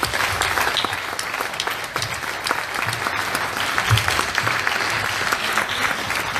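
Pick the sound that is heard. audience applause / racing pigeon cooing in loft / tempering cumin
audience applause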